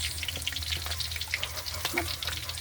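Shrimp coated in flour and bread mix fry in hot oil, a dense, continuous crackling sizzle with rapid popping spatters, close and fairly loud throughout.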